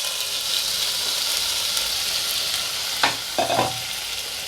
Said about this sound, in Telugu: ఇప్పుడు మనం మ్యారినేట్ చేసుకున్న పన్నీరు దీంట్లో వేసుకుందాం